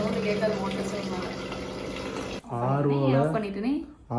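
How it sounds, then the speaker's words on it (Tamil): RO-purified water pours steadily into a vessel of meat for a couple of seconds, then a person speaks close by. "நான் இப்போ RO தண்ணி வந்து இதில் ஊற்றிருக்கேன்."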